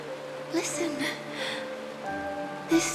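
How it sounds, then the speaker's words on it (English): Rain falling in the video game Honkai Star Rail, a steady, soft hiss of drops that runs through the whole stretch beneath a gentle melodic score. "This is the sound of rain."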